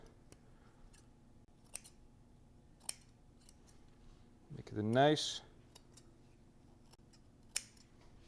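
A short burst of small scissors snipping near 5 seconds, with a brief crisp cutting rasp, while a voice speaks softly around it.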